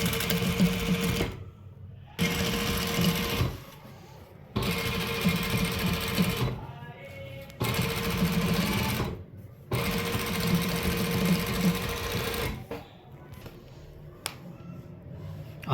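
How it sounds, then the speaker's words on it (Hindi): Sewing machine stitching the edge seam of a trouser, running in several steady bursts of a few seconds each with short pauses between them, loud and close. "अब इसके ऊपर किनारे की सिलाई लगानी है।"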